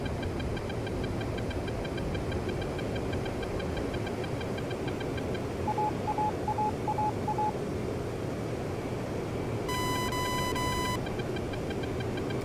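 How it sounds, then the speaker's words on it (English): A steady F-15 jet engine roar in the DCS flight simulator game with four quick electronic radar beeps, followed by a longer, brighter over-G warning tone that sounds for about a second. "It keeps beeping at me"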